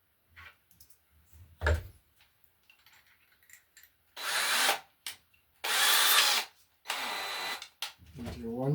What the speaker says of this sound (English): Okay, so that drill is coming through there.